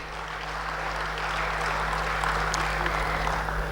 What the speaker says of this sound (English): One huge round of applause, everybody, please